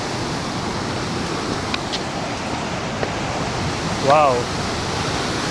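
Surf rolling onto Gopalpur beach in Odisha, a steady broadband wash filling the whole stretch, with a brief exclamation from a person near the end.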